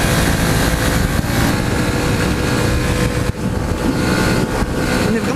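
A 2017 Honda CB125F motorcycle ridden on the road, its engine droning steadily under heavy wind rush at the microphone, continuous and loud with a brief dip partway through.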